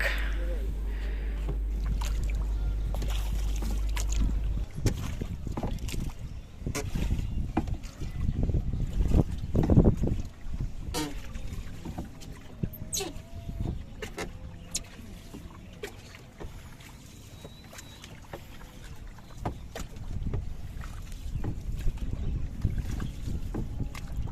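A small boat moves across clear water at Purbachal, Dhaka, with paddling splashes and wind buffeting the microphone, while people talk intermittently.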